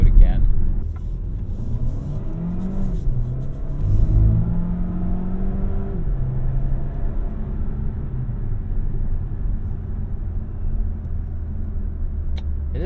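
A 2024 Dodge Hornet R/T Track Pack engine revs close to redline while driving in sport mode, a steady loud rumbling drone with rising and falling tones heard from inside the cabin, with talk over it.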